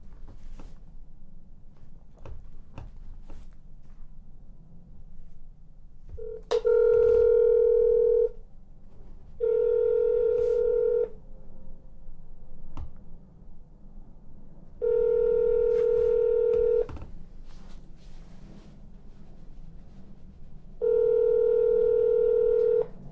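Telephone line tones sound during a call to the Perry County, Ohio treasurer office: four evenly spaced, steady electronic tone bursts repeat over faint background hiss.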